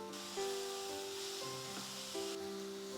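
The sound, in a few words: stir frying bread roll filling in a pan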